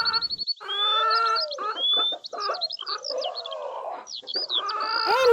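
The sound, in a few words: chicken clucking in a cartoon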